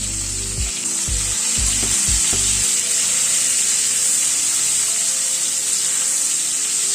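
Potato and pointed gourd pieces frying in a pan with salt and turmeric, a continuous bright sizzle with a few low knocks early on, then steady hissing alone.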